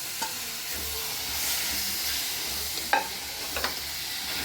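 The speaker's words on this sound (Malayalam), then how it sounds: "നമ്മൾ ഇതേപോലെ നന്നായിട്ട് ഇളക്കി കൊടുക്കുക" Tomatoes stirred in a frying pan for a prawn roast, with a steady sizzle throughout and a couple of brief spoon scrapes near the end; no talking.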